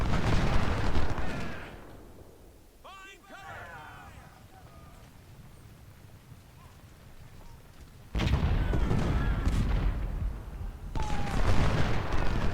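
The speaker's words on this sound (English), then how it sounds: "And enemy artillery is wasting precious ammunition" Enemy artillery fires in the Civil War strategy game Ultimate General, Battle of Shiloh: loud booming cannon volleys and rumble at the start and end, with a quieter stretch of distant low noise between.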